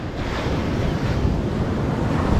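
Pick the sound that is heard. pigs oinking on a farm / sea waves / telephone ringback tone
sea waves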